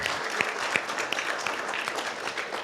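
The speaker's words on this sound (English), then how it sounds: "give a round of applause to our supporters here tonight to thank them" Supporters at a demo day event are applauded by the audience with brisk, moderately loud clapping, a few sharper individual claps standing out from the steady patter.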